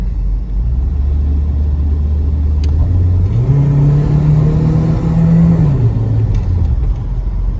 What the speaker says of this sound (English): There's still a little bit of an exhaust leak from the manifold